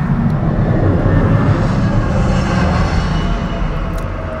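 A Lufthansa airliner coming in to land passes overhead near a parked VW T6 van, its engines producing a steady, loud, broad roar that slowly fades toward the end.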